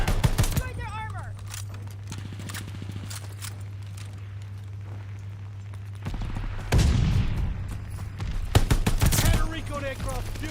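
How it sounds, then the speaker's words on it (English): Mortar fire and gunfire rattle through a Call of Duty Vanguard battle: scattered sharp shots and bursts with heavier thumps, mostly mid-distance, over a steady low hum, while game voices speak in between. "Allied mortar fire inbound."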